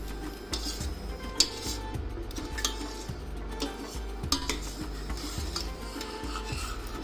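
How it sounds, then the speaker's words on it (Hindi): Spoon stirring cream into rabdi in a metal pot, repeated scraping and rubbing strokes in an uneven rhythm over a steady low hum, close and moderately loud. "जो मलाई हम साइड किए थे उस मलाई को अब राबड़ी के साथ अच्छे तरह से मिक्स कर देंगे।"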